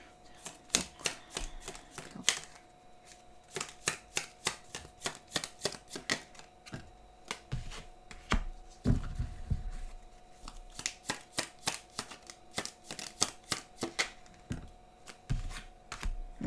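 Tarot cards being shuffled and drawn, a long run of crisp riffling snaps and flicks in uneven bursts, close and fairly quiet, with a faint steady hum underneath and no talking.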